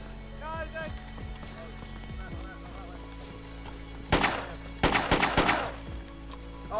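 Gunfire in the DayZ video game: a few sharp shots and short bursts crackle in the second half, under excited overlapping voices of players shouting.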